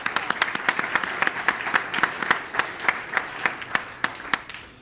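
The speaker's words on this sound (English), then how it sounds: "Big round of applause" An audience at an innovation challenge awards finale bursts into steady applause, with sharp individual claps standing out over a dense wash of clapping that thins slightly toward the end.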